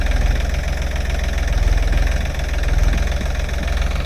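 A tractor engine idles steadily after being started with its self-starter on a farm, a close, continuous low rumble with a slightly knocking pulse and no voices.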